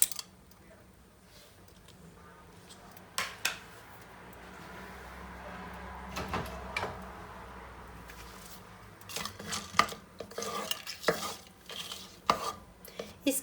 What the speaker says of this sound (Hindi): इसके अंदर सबसे पहले हम लोग डालेंगे ये जो हम लोगों ने साबुत मसाला जात लिए हैं वो